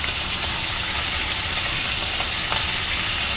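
Seasoned meat searing in a hot pan, a loud, steady, close crackling sizzle with no talk over it.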